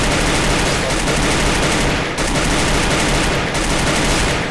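Sustained automatic fire from a Titan Scar in the Free Fire battle game, two long dense bursts split by a brief pause, loud and saturated, with faint talk beneath.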